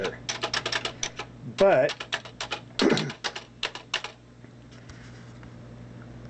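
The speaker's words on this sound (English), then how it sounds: "it sounds like a typewriter because it kind of is like a typewriter" Rapid mechanical key clacks in bursts from a Sperry-Rand Remington EDC III Nixie calculator, close and crisp, with a voice speaking briefly over them before the tapping fades to a quiet hum.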